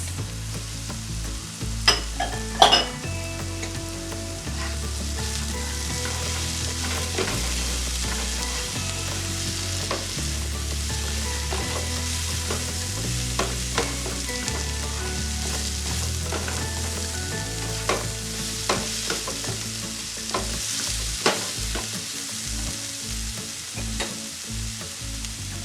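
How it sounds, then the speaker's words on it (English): Snow peas and carrots stir-fry in a hot pan for a zucchini lo mein, a steady loud sizzle broken by repeated scraping and tossing strokes and a few sharp clinks of utensil on metal, with no talking. "Now we're going to go in with our snow peas,"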